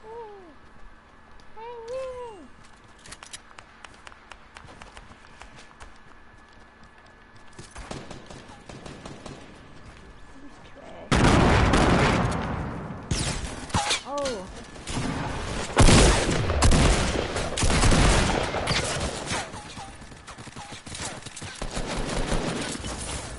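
Bursts of gunfire in the video game Fortnite, rapid volleys that grow loud and dense in the second half, with voices talking over the shooting.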